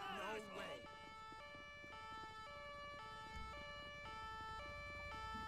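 An ambulance siren wails in the video game GTA V, steady and fairly faint, with a rising-and-falling two-tone pattern and a voice talking briefly at the start.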